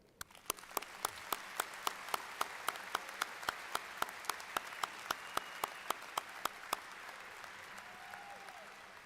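Audience at a university commencement applauds the graduates, heard as a soft, spread-out crowd of clapping with many sharp individual claps standing out in a steady rhythm, fairly quiet and distant, lasting several seconds.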